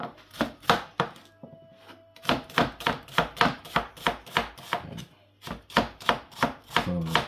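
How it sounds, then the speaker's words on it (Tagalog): A knife chops onion on a cutting board in rapid, evenly spaced sharp knocks, loud and close, with a short pause before resuming the steady rhythm. "So maghihiwa tayo rito ng onion."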